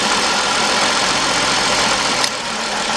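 A Mercedes-Benz E320 engine idles with a cylinder 6 misfire, a steady close-up mechanical rumble with faint irregular knocking, briefly dipping near the end; no one speaks.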